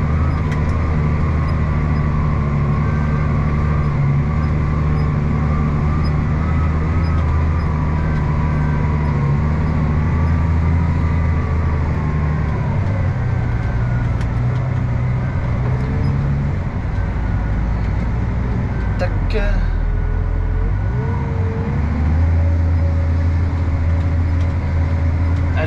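Tractor pulling a heavy Agrisem vibro cultivator across a field, a steady loud diesel drone with low harmonic hum that shifts pitch as it slows and turns around, no talking.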